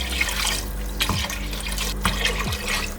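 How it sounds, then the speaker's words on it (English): Tap water runs into a cooking pot for borscht, filling it about two-thirds full after diced ingredients have been fried, a steady splashing flow with a few clunks of the pot shifting near the sink. "fill it up to 2/3 with water"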